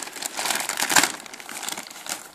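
Sealed plastic bag holding parts of an Airfix 1/48 Supermarine Spitfire PR XIX model kit is torn open and handled, giving close, loud crinkling and rustling with one sharper tear in the middle.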